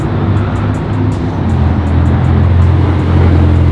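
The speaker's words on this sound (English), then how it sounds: "Oh, that's the Pista Spider." A Ferrari 488 Pista Spider supercar drives by at night on a Zurich street, a deep, steady engine rumble that swells louder and closer toward the end, amid faint background noise.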